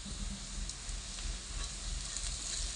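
Cumin seeds sizzle in hot oil in a pan, a steady close hiss and crackle with faint spatters, no voices.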